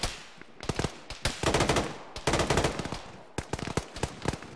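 Loud, close automatic gunfire in ArmA: rapid bursts of sharp shots crackle in quick succession, with short pauses between volleys and dense fusillades layered over each other.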